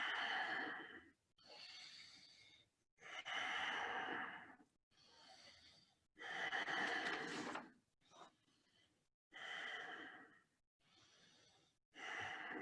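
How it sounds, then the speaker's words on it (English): Strong, forceful breaths in and out through the nose during a Kundalini yoga breathing exercise, about ten loud, airy bursts in a steady rhythm, close and alone without talking. "Strong inhales and exhales"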